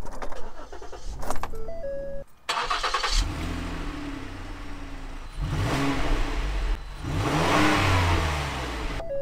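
A Ford Taurus police car engine cranks and catches, then revs up and settles into a steady idle, loud and close, preceded by faint key jangling and brief electronic chimes.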